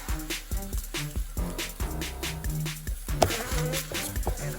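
Honeybees drone continuously in a hive that is being fed sugar and pollen, a dense close buzz with a steady low hum and some clicks and knocks from the hive handling over the top.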